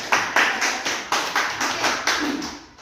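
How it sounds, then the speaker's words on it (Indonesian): A small group claps for a teacher at a school training session, a brief round of steady, close applause lasting a few seconds with no talking. "tepuk tangan dong untuk Bu"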